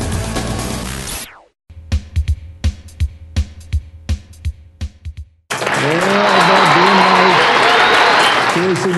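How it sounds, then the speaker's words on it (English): A studio audience at a TV show claps in a sustained burst of applause after a run of rhythmic thumping beats, with a voice speaking around it. "That's why they're clapping."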